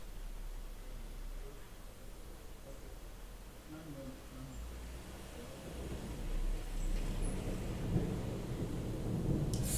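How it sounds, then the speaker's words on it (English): Thunder rumbles low and long, growing heavier partway through, with a hiss like rain over it and a voice murmuring faintly beneath. "The wonder of thunder."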